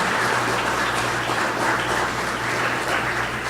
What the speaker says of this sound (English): Let's give him a round of applause and congratulate him again.